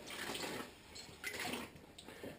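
Hot water from a kettle pours and splashes into a pot, a soft continuous watery rush with small surges, fairly faint and with no one speaking.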